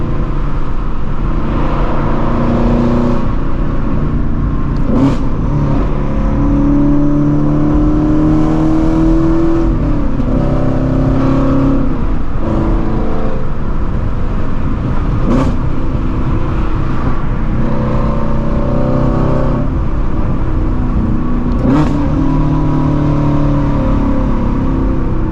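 A 2016-2020 Shelby GT350 Mustang with its flat-plane V8 revs up and downshifts repeatedly, giving loud rising and falling engine howls with sharp blips at each shift, close and continuous throughout.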